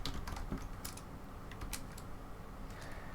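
Rapid, uneven clicking of a computer keyboard as code is typed, close and fairly steady, with bursts of brighter keystrokes and no voice.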